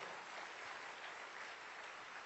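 A church congregation claps steadily during a sermon, a dense, even wash of applause heard at a soft, distant level throughout, with no voices over it.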